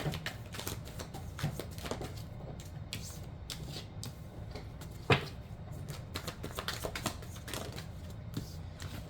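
Tarot cards are shuffled in a series of soft, rapid flicks and riffles, with a few sharper snaps, quiet and close throughout with no talk.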